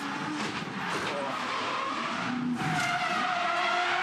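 Race utes in a V8 Ute Series race at the Gold Coast locking wheels and skidding, faint squealing tyres and engine noise heard at a distance beneath commentary.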